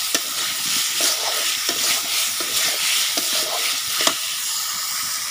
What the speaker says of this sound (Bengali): সেই পাশে মশলাগুলো কষানো গেছে